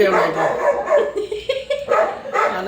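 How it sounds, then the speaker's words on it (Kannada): Dogs bark in a quick run of sharp, close barks and yips, repeated in short bursts over a little over two seconds. "ಈ ತರ ನಾಯಿಗಳು ನನ್ನ ಹಿಂದೆನೂ ಬೊಗಳ್ತವೆ"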